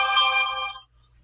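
A phone ringtone plays a short, bright electronic melodic phrase up close, lasting under a second before cutting off into near silence.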